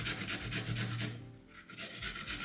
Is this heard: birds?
no